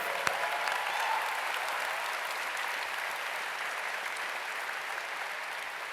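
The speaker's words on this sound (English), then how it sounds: "So a big round of applause for Cirque Bijou" A large audience at the MineCon 2015 closing ceremony applauds steadily for a circus troupe's fire show, a dense, even wash of clapping that holds without breaks for several seconds.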